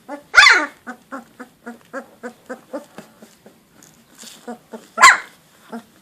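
Fifteen-day-old Epirus Molossus puppies bark nearby in a quick run of small yips, with two louder, sharper barks standing out among the steady series of short, high-pitched calls.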